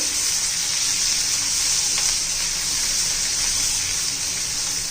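Crushed cumin and coriander seeds frying in oil with green chillies, a loud, dense, continuous sizzle held close throughout.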